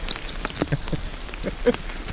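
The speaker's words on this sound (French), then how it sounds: "Sauf évidemment si ça s'arrête de pleuvoir. Ah là ça redouble." Heavy rain falling outdoors on a hiking trail along the Camino de Compostela, a steady broadband hiss with scattered louder drop impacts and brief surges, no talking.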